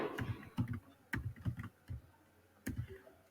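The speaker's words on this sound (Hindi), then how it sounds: "हम कुछ भी ये टाइप कर देते हैं।" Someone types HTML tags on a computer keyboard, producing irregular bursts of crisp key clicks, close and clear, with short pauses between groups of keystrokes and no talking.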